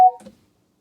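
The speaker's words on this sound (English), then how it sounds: "That was my phone." A phone notification chime sounds once, a short bright electronic tone that rings clearly and fades fast into near silence.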